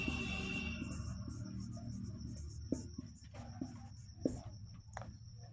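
Pen or chalk strokes scratch out numbers during a Class 6 maths lesson on place values, a run of short, quiet scrapes and taps close by with no talking.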